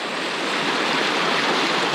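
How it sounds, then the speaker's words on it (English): Water rushes over a road ford crossing in a continuous broadband roar. It sounds close and loud, with no voices. "I'm back here at this road water crossing."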